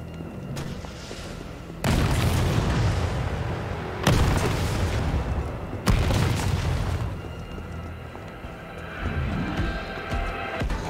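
Rocket launcher blasts in Resident Evil 3 in the sewers: three heavy booming explosions about two seconds apart, each with a long rumbling tail, followed by lingering clatter and noise.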